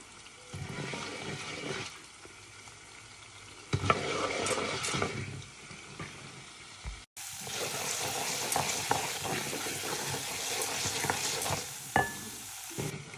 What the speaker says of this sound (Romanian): Prăjesc puțin să prindă culoare.